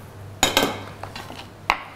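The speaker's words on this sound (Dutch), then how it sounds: "die stroopwafels gaan we even een beetje fijn snijden" A knife chops stroopwafels on a board in a few distinct knocks and scrapes, close and sparse, with a low steady hum in the background.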